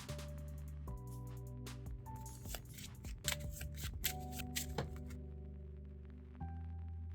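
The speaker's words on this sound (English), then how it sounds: "now that Krang shuffled" A deck of cards is shuffled for the Unmatched board game, with quick riffling, soft slapping and rustling bursts at close range over quiet background music.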